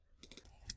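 Keystrokes typed on a computer keyboard while entering commands in PowerShell Empire, a short run of several close, soft clicks with a sharper final tap, heard alone.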